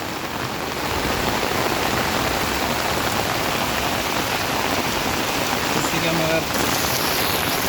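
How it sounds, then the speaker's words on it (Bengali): Heavy, steady rain pours down during a flood at Bandarban cantonment after days of nonstop rainfall, a dense hiss filling the whole stretch at a constant loud level. "দেখেন বৃষ্টিত অবস্থা।"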